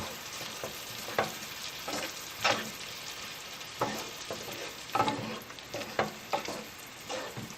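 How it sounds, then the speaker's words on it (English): Tomato sauce for stuffed peppers is stirred in a pan, with a spoon scraping and clacking in uneven strokes over a soft, steady sizzle. "Just incorporate that, stir in the sauce."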